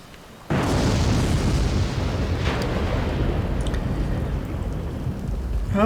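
Heavy rain in The Sims, a dense steady broadband downpour that starts abruptly and then holds at full, loud level throughout with no talk.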